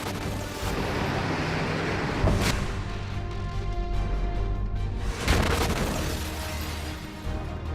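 IDF tank blown up by a fighter in Gaza: two heavy, sharp blasts a few seconds apart, each bursting out of a constant low rumble and decaying back into it.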